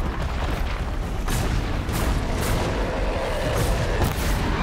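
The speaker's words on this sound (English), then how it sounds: "that was the weapon of the Scorcher" The Scorcher machine's weapon firing in Horizon Zero Dawn: a dense, roaring barrage of booming blasts, loud and continuous, with sharp bursts standing out throughout.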